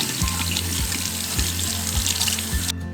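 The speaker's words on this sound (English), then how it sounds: "go ahead and just wash this off real fast" Green onions are rinsed under a running kitchen tap, a loud, steady hiss of water striking the sink. Low periodic knocks sound beneath the flow, which stops abruptly near the end.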